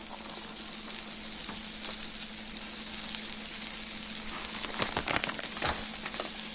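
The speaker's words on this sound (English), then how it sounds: "You definitely want the sizzle" A grilled cheese sandwich with romano cheese crisping around the edges sizzles and fries steadily in a pan, a continuous crackling hiss with a few louder pops near the end, no voices.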